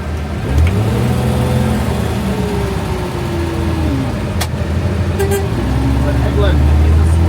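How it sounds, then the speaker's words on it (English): A Swedish-built Hägglunds military tracked vehicle runs with a steady, loud engine drone and rising and falling pitch, continuous throughout while people talk nearby. "Headland is a Swedish designed vehicle used by the Swedish military"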